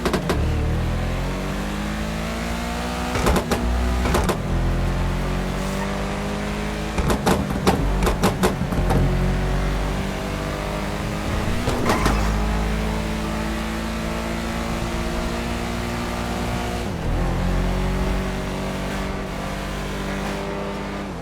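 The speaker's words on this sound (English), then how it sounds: "Each gear shift produces realistic sound effects which make driving more immersive." Car engine in the FiveM game with gear sound profiles: sustained revving whose pitch climbs and drops sharply at each gear shift, several shifts in a row, loud and close with no voices.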